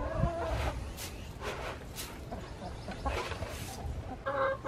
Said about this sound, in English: I'm just out here hanging out with the birds.